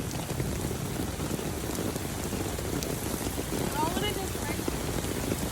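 Steady rain falls outdoors during a storm, a dense, continuous patter of drops on surfaces and an umbrella, fairly close and even in level, with no distinct thunder rumble standing out.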